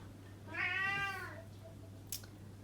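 A pet cat gives a single drawn-out meow, fairly close and clear in a quiet room over a low steady hum, followed by a short faint noise.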